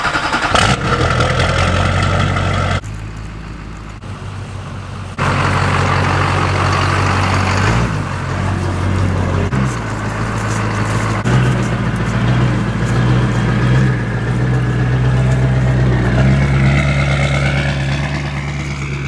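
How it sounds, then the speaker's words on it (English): A GMC Duramax diesel truck engine cranks and fires, cutting out briefly before catching, then settling into a loud, steady, close-up idle with a deep rumble. "let's go ahead and fire up this Duramax"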